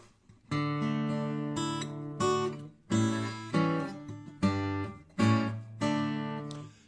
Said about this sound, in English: It's kind of a crossover guitar.